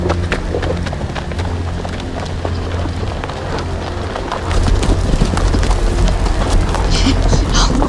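A horse's hooves clip-clop in the Game of Thrones video game, a steady rhythmic patter that grows louder partway through, with a voice talking over it.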